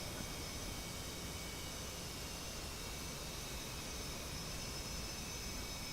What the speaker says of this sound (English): One of the Tomcats.